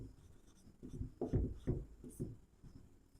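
A few quiet strokes and scrapes as a formula is written on a board during a maths class, soft and close in a quiet room.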